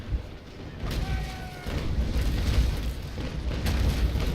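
A sailing warship fires cannon broadsides in the Naval Action video game, heard as heavy booming blasts over a continuous low rumble that swells after the first second and stays loud throughout.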